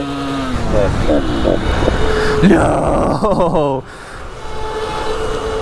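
Close and loud, a gas Surron motorbike strains at full throttle in sixth gear, its engine whining with shifting pitch before the roar abruptly drops away, while a rider's voice speaks over it.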